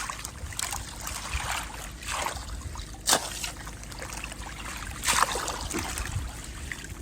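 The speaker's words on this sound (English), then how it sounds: "I can actually wash the carrots down here" Water splashes and trickles continuously as freshly harvested carrots are rinsed, with a couple of brief louder sloshes over a constant watery background.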